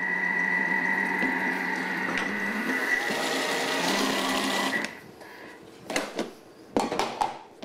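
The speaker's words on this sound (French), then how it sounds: "Ici, on va mixer le tout." A food mixer blending oat flake dough runs steadily with a loud whirring motor for about five seconds, then stops, followed by a few clattering handling knocks.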